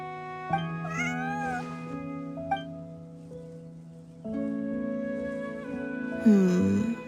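A cat meows several times in Genshin Impact, with soft, close, rising and falling cries in separate bursts over a steady background music bed.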